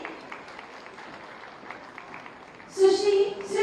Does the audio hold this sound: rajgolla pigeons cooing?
no